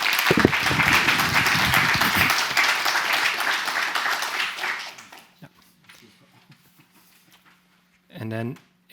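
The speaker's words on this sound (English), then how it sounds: "Maybe one last applause." An audience applauds a presenter at a power-grid modelling meetup session. The clapping is full and steady for several seconds, then thins out and stops, leaving a quiet room broken by a brief tonal sound near the end.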